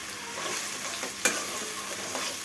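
Onions frying in a pan for a loitta fish curry, with water splashed in: a steady, fairly quiet sizzle with stirring scrapes and a couple of sharp spits near the middle and end, no voices.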